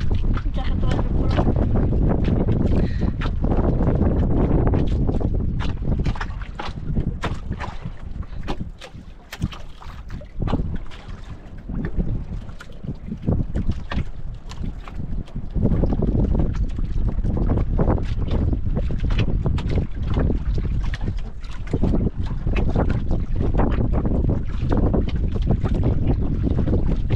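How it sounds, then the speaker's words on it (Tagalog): Strong wind roars and buffets the microphone continuously, with heavy low rumble and gusty swells throughout, over open water. "Big hangin ah."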